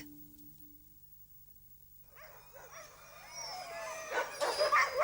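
Alaskan sled dogs yipping, whining and barking excitedly, starting faint and building into a loud, overlapping chorus of several dogs outdoors.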